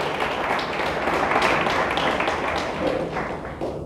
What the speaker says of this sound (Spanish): Le damos un fuerte aplauso a Dios por eso.